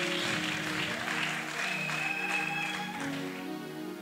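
Audience applause at a church convention, a steady wash of many hands clapping filling the hall, moderately loud and sustained throughout, with tonal music or voices faintly underneath.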